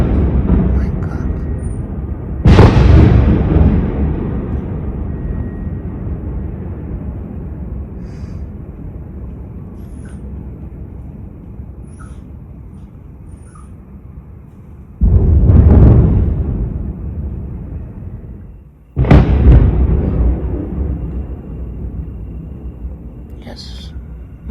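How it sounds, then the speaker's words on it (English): Heavy explosions from Russian Zircon missiles strike Kyiv at night, three loud deep booms each rolling off into a long rumble, separated by quieter stretches of low background noise. "this is the sound of zircon"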